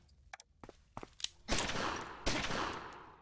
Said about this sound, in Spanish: Y Bárcenas, pues que le dispare a este hombre